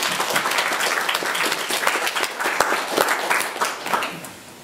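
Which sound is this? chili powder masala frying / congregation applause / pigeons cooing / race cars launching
congregation applause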